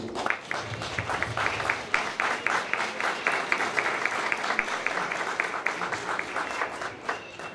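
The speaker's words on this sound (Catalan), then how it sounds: "Rebem els seus membres amb un fort aplaudiment." Loud, steady applause from a street-festival audience welcoming a school orchestra, dense rapid clapping sustained throughout with no pause.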